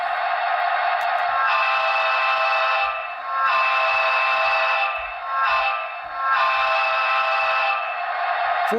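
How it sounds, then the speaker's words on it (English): A grade crossing horn from a Broadway Limited HO scale die-cast SD70ACe diesel sound decoder, a loud two-long, short, long pattern of sustained chime-like blasts with brief dips between them. "13 is grade crossing horn."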